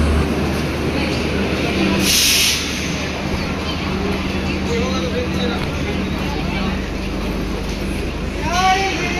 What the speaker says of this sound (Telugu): చూడండి ఇది వాస్కో ట్రైన్ అన్నమాట, బెంగళూరు టు గోవా ట్రైన్